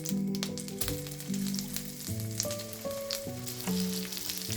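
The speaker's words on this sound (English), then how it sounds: "Place the salmon fillet onto the hot pan." A salmon fillet with the skin removed sizzles in a hot pan, a constant bright frying hiss that runs under a melodic music track.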